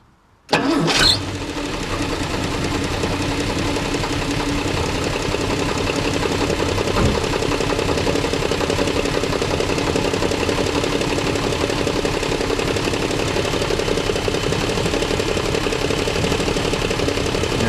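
A 1966 Plymouth Valiant engine cranks and catches, then settles into a steady, rough idle with some clatter that runs on continuously, loud and close, with no talking.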